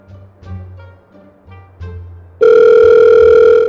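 A telephone gives a loud, steady electronic tone that starts suddenly after a stretch of quieter, scattered sounds and holds without a break to the end.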